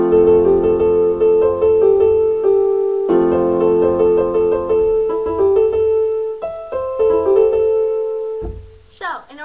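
Solo piano plays a section of a song: sustained bass notes under repeated mid-range chords and melody, steady and close, ending with a short vocal sound.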